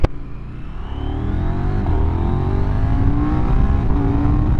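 KTM 990 RC R motorcycle engine revving and pulling away, a loud close rumble whose pitch rises in several accelerating sweeps through the gears, no voices.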